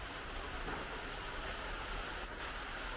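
Light afternoon rain just beginning, a soft even hiss of drops on surfaces that holds steady and faint throughout with no voices.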